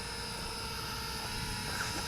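A C-me folding GPS follow-me selfie drone comes in to land, its rotors giving a steady close buzzing whir that holds even and continuous throughout with no voices.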